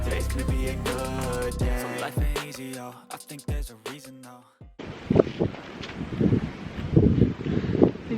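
Music plays for a few seconds, then cuts abruptly to gusty February wind with snow buffeting the microphone, rising and falling in uneven rushes.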